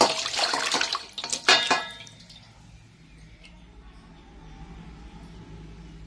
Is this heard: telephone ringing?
no